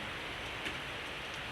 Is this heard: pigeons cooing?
no